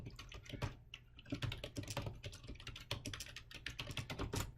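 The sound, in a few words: typing a chat message on a computer keyboard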